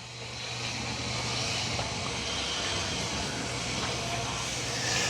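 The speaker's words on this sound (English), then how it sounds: "It's going to travel to this room and start vacuuming and mopping." An Ecovacs Deebot X9 Pro Omni robot vacuum vacuuming and mopping a floor gives a steady, loud, broadband whirring hum that holds constant throughout, with a faint low tone running underneath.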